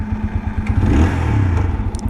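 A 2026 TVS Apache RTR 160 4V base-model motorcycle engine runs up close with a low, pulsing, uneven rumble and some mechanical clatter over a couple of seconds, with no voices.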